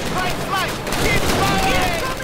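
Call of Duty: United Offensive battle fire, a rapid, dense fusillade of rifle and machine-gun shots crackling continuously at close range, with shouted voices in the mix.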